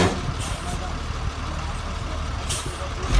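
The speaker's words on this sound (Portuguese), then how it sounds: "o caminhão jogando a massa" A truck spreading asphalt on a road rumbles with a low steady engine drone, a couple of brief hissing bursts like air brakes rising above it, while people talk nearby.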